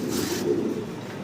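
Fancy pigeons at a breeder's loft cooing in a soft, low, continuous murmur, fairly close, with no talking over it.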